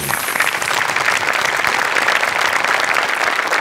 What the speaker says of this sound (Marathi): तर त्यांच्यासाठी आपण टाळ्या वाजवूया